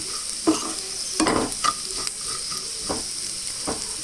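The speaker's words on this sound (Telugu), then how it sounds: "ఇలా బాగా కలిపేసుకోవాలి ఈ పొటాటో ఫ్రైని" A spatula scrapes and stirs potato fry sprinkled with salt in a hot frying pan, giving several distinct scraping strokes over a steady soft sizzle, close up.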